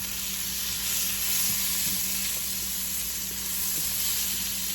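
Eggplant fries in brown butter in a pan, giving off a steady close sizzle and hiss with faint stirring scrapes, and no one speaks.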